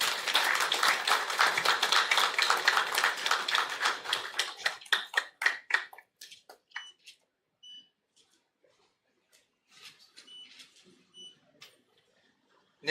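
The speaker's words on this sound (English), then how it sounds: "Can I have a round of applause?" A seminar audience at a maritime studies institute in Goa gives a round of applause: full crowd clapping that thins into scattered claps, then near-quiet with faint room sounds.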